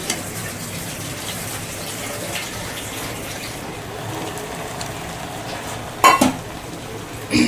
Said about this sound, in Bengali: আলু আর চালটা দিয়ে একটু নাড়িয়ে নিলাম